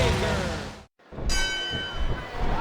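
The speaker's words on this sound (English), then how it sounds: "There's the bell" A ring bell in the WWE Smackdown vs RAW 2009 wrestling video game sounds with a sustained metallic tone after a brief dropout, ringing over dense crowd and commentary noise.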